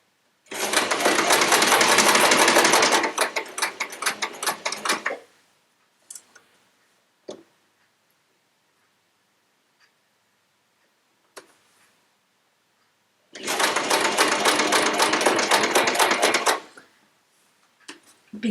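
Sewing machine stitching quilt fabric along a stretchy bias edge, running in two long steady bursts of rapid stitching separated by quiet with a few small clicks, close and clear.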